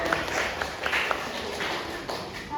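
A sixth-grade elementary class claps during a science lesson. Scattered, uneven hand claps run for a couple of seconds at moderate loudness over a roomy background, with no clear talking.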